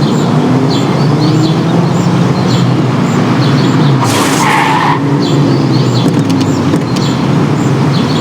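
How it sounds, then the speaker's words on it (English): Car tires skidding before a crash into Morello's car in the Mafia video game: a loud, sustained screech and engine roar with a brief sharp impact burst partway through, close and continuous. "Do you mean to say that I crashed into your car?"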